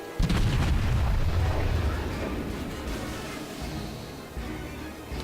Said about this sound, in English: Got our forward turrets firing